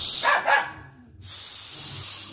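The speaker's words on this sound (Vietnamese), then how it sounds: "Đứa nào nãy giờ sủa." An Alaskan dog barks twice in quick succession up close, followed by a short pause and then a steady hissing, spray-like background noise.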